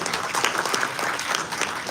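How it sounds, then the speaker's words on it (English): A crowd at a university event breaks into brisk, loud applause, continuous dense clapping with no voices over it. "Can we please have a huge round of applause?"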